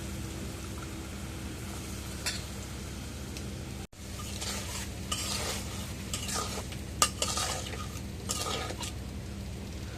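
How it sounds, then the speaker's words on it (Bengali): Stinging catfish stir-fried in a spice paste in a pan: a steady, quiet sizzle runs beneath intermittent spatula scrapes and clinks, close by, with no voices. "এখন শিং মাছটা মশলাগুলোর মধ্যে কষানি করি মাছটা"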